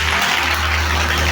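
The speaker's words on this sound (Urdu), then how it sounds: "دبورا تالیاں بجائے زور سے" A church congregation claps loudly during a sermon, a dense, sustained wash of applause close by with no speech over it.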